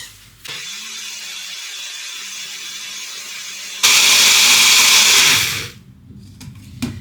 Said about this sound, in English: Then I'm gonna take my blender